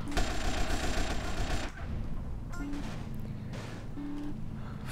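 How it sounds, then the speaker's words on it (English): Assault rifle gunfire in GTA: San Andreas rattles in a sustained automatic burst at the start, then drops into quieter scattered shots and game ambience, with a faint voice at times. "Oh, an assault rifle."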